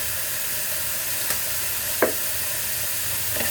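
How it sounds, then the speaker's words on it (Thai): Dim sum filling for ham sui gok stir-fried in a pan with light soy sauce and sesame oil, giving a steady soft sizzle with a few brief scrapes of stirring. "จากนั้นก็ผัดจ้า"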